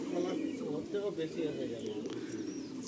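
Pigeons cooing in a Madrasi pigeon loft at Ranihati, low soft burbling coos running continuously and close, with a few faint chirps.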